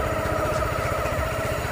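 A Honda CB190R motorcycle engine idling, a steady low rhythmic putter with a faint mechanical hum, close and even throughout.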